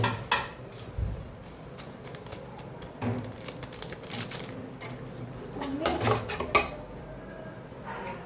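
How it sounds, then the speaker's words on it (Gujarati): Light clinks and scrapes of a spoon in a bowl as handvo batter is mixed a little at a time with a pinch of Eno, coming in scattered bursts against quiet kitchen background. "હવે આવી રીતે થોડું થોડું ખીરું લઈ એમાં સહેજ ઈનો એડ કરીને મિક્સ કરતા જઈએ"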